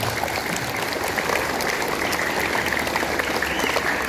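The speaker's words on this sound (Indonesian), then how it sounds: "Boleh tepuk tangan." Students at a school Teachers' Day ceremony applauding, a dense, steady crowd of clapping hands sustained for several seconds with no break.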